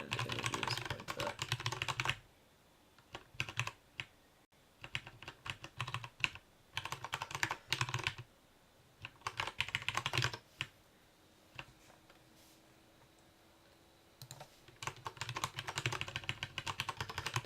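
Someone types Haskell code on a computer keyboard: rapid bursts of close keystrokes broken by quieter pauses, with no speech.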